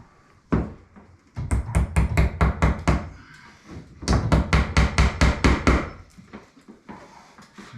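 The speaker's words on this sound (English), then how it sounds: "once it's bitten the wood, then take your finger away and just whack it" A hammer drives a nail into wood in two fast runs of sharp, loud, close knocks, about a dozen evenly spaced blows each, with a short pause between the runs and no talking.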